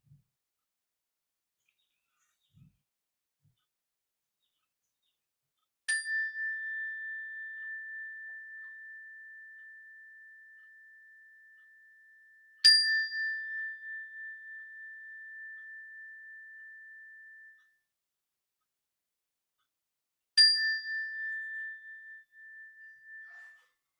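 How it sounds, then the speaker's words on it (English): A meditation bell struck three times, each a clear, pure ringing tone that decays slowly into silence, with long gaps of quiet between strikes. "I'll ring the bell, and when I do, I just want to invite you to listen to the sound of the bell"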